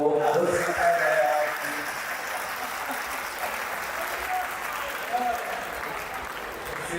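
Audience clapping at a Mahavir Jayanti poetry recital, a steady mid-level patter of many hands filling the hall, with a voice briefly audible over the start before the applause carries on alone.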